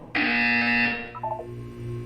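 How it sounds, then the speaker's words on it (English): A buzzer in the video game Portal 2 sounds once, loud and close, as a sustained electronic tone lasting under a second, then gives way to quieter background game sounds. "When you hear the buzzer, look down at the floor."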